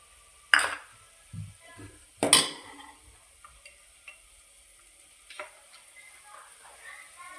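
Spices are stirred into eggplant frying in a pan, with a few sharp scraping clatters of the spoon against the pan over a faint sizzle, and a little talk.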